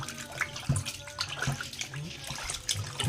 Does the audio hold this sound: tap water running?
yes